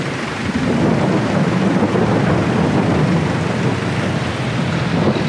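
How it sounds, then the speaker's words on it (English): Heavy pouring rain and gusting wind outdoors on a farm, a dense steady roar with wind buffeting the microphone, loud and continuous with no one speaking. "I'm out here in the pouring rain."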